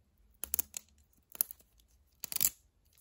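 A Mini Brands toy package zipper is torn open in three quick, close, crisp ripping bursts separated by short pauses, with faint crinkling around them.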